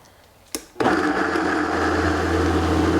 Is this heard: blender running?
yes